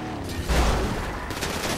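Gunfire in GTA Online, a short burst of shots with a low boom under it, loud and close, lasting under two seconds.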